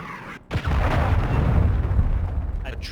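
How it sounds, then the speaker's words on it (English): A cruise missile explosion in the Call of Duty Modern Warfare 2 beta on PC: a sharp break, then a loud, sustained low rumbling roar of blast and debris that fills the rest of the moment without fading. "Hostiles launched a cruise missile."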